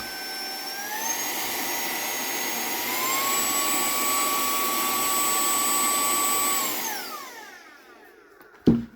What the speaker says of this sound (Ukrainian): Сам цей пилосос працює на трьох режимах.